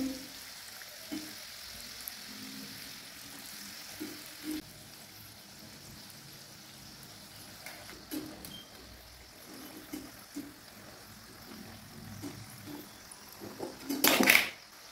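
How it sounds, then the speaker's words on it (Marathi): Food frying in a kadai over a low gas flame gives a soft, steady sizzle with occasional small pops and stirring sounds, ending in a short louder crackling burst. "फास्ट गॅस नाही करायचे, बारीक गॅसवरच तळून घ्यायचे आपल्याला"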